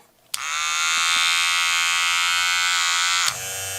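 Two Wahl Cordless Detailer Li trimmers switched on and running side by side, a loud steady high electric buzz starting abruptly and holding for about three seconds before cutting down to a softer hum.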